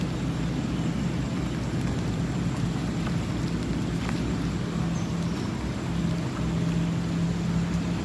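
Steady broadband hiss of rain falling around a fishing spot during the rainy season, with a low continuous rumble underneath and no talking.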